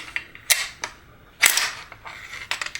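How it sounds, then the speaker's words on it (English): An AK-47 bolt being pulled out of its bolt carrier during field stripping gives a few sharp, close metallic clacks and clicks separated by short quiet gaps. "we're going to take this bolt out of the bolt carrier"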